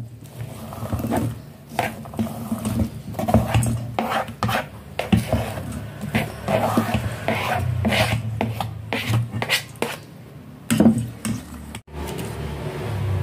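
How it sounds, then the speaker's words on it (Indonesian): Eggs beaten by hand in a bowl for spiced baked eggs, heard as quick, irregular scraping and rubbing strokes, fairly close and loud, sometimes pausing briefly. "Telur saya kocok-kocok."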